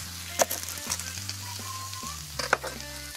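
Steak sizzles loudly on a hot griddle pan, a continuous close frying hiss broken by a few sharp spits and pops, with no talking.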